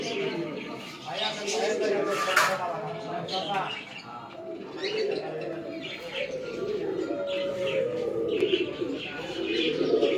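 Exhibition pigeons in a loft give off soft, low coos and a few chirps, repeating at a steady pace. People talk over them throughout.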